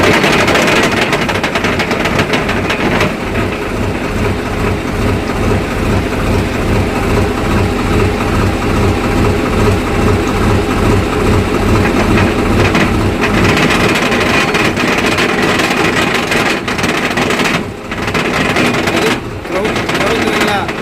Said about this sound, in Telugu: బండి స్టార్ట్ చేసి గేర్ వేసి చూపిస్తా.